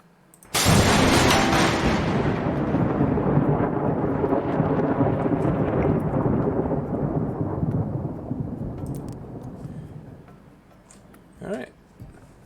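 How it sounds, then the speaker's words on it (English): Lightning striking a battery in the game The Universim sets off a sudden, loud thunder crack. A long rumble follows and slowly decays over about ten seconds, with a brief faint voice near the end. "And lastly, strike the battery with lightning."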